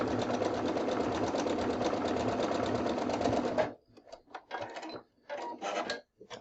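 A sewing machine stitches quilt blocks together in a fast, steady mechanical whir for about three and a half seconds, then stops, leaving a few short handling clicks and rustles.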